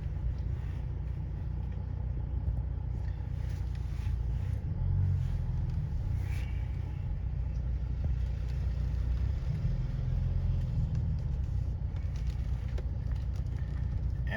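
A 2011 Mercedes-Benz E350 CDi (W212) rolls slowly along, a steady low engine rumble and road noise from inside the cabin, faint and even throughout with no talking.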